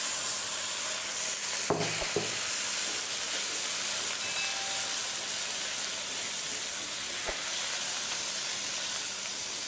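Chicken sizzling in a little oil with garlic-ginger paste, a steady bright hissing fry with a couple of brief stirring clatters, continuous and moderately quiet with no talk.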